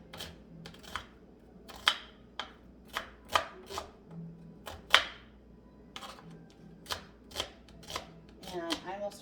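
A knife chops an onion on a cutting board while pasta e fagioli is being made, giving a string of crisp, close, irregularly spaced taps with brief quiet gaps between them, and a little speech comes in near the end.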